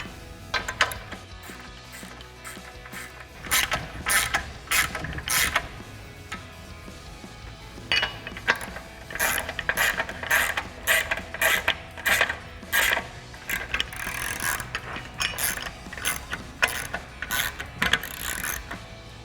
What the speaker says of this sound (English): take a 13mm socket on a ratchet, tighten up our nuts